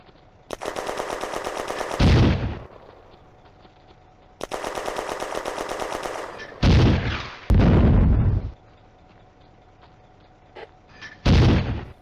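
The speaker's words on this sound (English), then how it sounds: "It seems mortar fire is coming from behind the chateau building to the east." Mortar and gunfire in a WWII video game set during the May 1940 advance on a chateau: long rattling machine-gun bursts alternate with heavy booming impacts, loud and close, with short quiet gaps between volleys.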